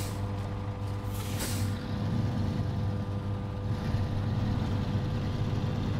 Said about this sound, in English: I'm gonna park this truck over here.